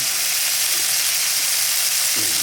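Garlic sizzling in a hot pan as a Filipino chicken feet (adidas) dish is cooked, a steady close frying hiss filling the clip with a brief stir or scrape near the end.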